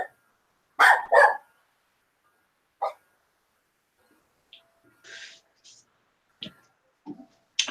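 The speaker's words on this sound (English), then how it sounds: "Do I hear puppies? Yes, I do." Puppies barking at a homestead: a couple of close, sharp yips up front, then scattered smaller yelps and whimpers spread through otherwise quiet surroundings.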